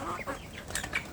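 Young free-range village chicks about two months old clucking and peeping in short, soft bursts close by, a brief scattered chatter with no talking.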